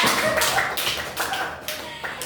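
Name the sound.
classroom clapping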